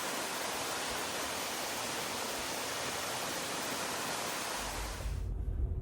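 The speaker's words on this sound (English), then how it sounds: "there it is. The falls from the top." Waterfall heard from the top of the falls at a park near a tunnel: a dense, steady roar of rushing water fills the scene, loud and unbroken, then cuts off abruptly near the end.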